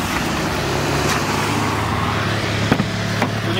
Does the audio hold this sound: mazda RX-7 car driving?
yes